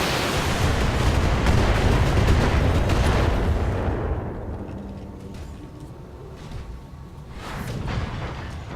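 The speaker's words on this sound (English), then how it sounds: "just pop this guy with all your missiles" A BattleTech mech lets loose a heavy volley of missiles, a dense rumbling barrage of booms that fades into softer scattered impacts, then swells again briefly near the end.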